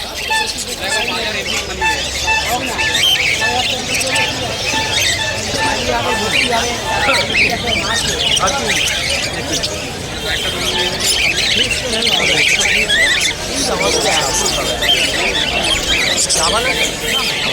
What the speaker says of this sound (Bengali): আর এদিকে তোমরা ককটেল দেখতে পাচ্ছ